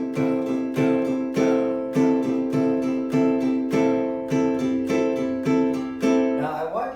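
A ukulele is strummed with steady, evenly spaced down strokes, each chord ringing briefly before the next, close and clear with no talking.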